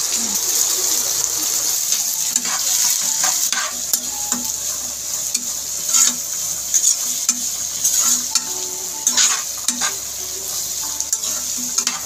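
Capsicum, carrot and soaked green peas stir-fry in a pan for beef noodles, giving a continuous bright sizzle broken by repeated close clacks and scrapes of a spatula, with no talking.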